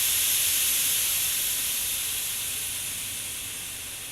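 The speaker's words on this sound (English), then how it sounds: "Thomas shuddered to a halt, and he let out a great whoosh of steam" A steam locomotive named Thomas shudders to a stop and lets out a great whoosh of steam: a steady, loud hiss that fills the whole clip with no voices, fading slowly as it goes on.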